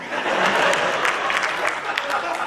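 Audience applause fills a hall during a Hindi poetry recital, a dense, steady wash of many hands clapping at once, loud and close throughout with no pause.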